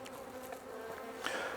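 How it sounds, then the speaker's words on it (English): Honey bees buzzing steadily around an open Langstroth hive during an inspection, a close, continuous drone with a slight rise near the end and no voices. "go through shaking the bees off, and looking for these queen cells."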